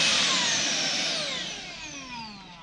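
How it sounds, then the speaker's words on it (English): A Xiaomi Jimmy JV51 handheld cordless vacuum cleaner runs at full power with a steady, loud high-pitched motor whine and airflow hiss, tapering slightly in volume with no talk. "it activates the full power of this vacuum."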